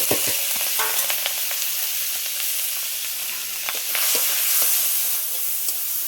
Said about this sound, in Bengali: চিংড়ি মাছটা আমি হালকা করে ভেজে নেবো